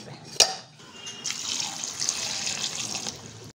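Tap water runs steadily into a vessel in a home kitchen while grapes are soaked before cooking, starting with a sharp knock, then a continuous close splashing stream for about two seconds that stops abruptly.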